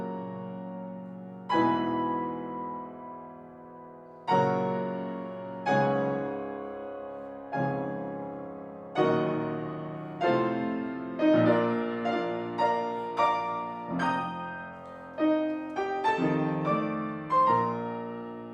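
Solo piano plays the second group of themes from a classical concert program, slow separated chords with sustained decays at first, then gathering into denser, quicker figures toward the end, no voices.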